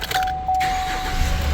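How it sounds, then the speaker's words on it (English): A Silverado/Sierra/Tahoe truck engine starts, close and loud, with a brief jangle of keys before the engine catches and settles into a steady running rumble. "We'll start the truck."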